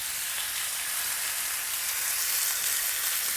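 Salmon sears skin side down in hot olive oil in a pan, a steady, close, even sizzle and crackle holding on without pause.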